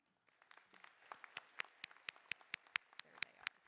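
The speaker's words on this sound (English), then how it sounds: "let's give them a round of applause." Sparse, fairly even hand claps at a law school commencement ceremony build from faint to moderately loud. A few individuals are clapping rather than a full crowd.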